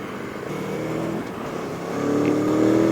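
A 2020 Aprilia Tuono motorcycle engine revs, a rough, loud drone that climbs in pitch and grows louder toward the end, heard up close.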